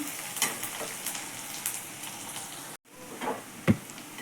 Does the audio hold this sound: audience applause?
no